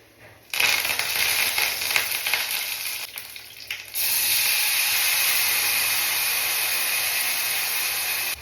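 Curry leaves hit hot oil with mustard seeds, bursting into a loud crackling sizzle that eases briefly, then surges into a steady, intense hiss of frying.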